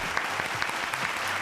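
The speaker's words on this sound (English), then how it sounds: "Round of applause for Jules Koundé." A crowd at a FC Barcelona vs PSG Champions League match applauds Jules Koundé, a faint, distant wash of steady clapping heard through a live broadcast.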